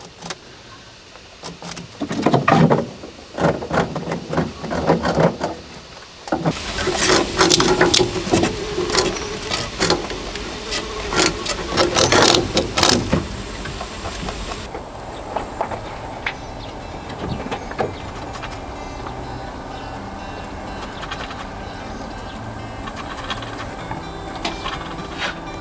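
Rabbits gnawing on dried bread rusks, a close dense patter of crunchy bites and rustling, louder early on and then a softer steady munching.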